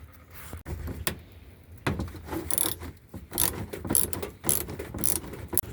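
A ratchet works on a 10mm bolt holding the left side of the front bumper on a 2013 Dodge Challenger 3.6L, giving irregular close metallic clicks and scrapes in short bursts, with no talking.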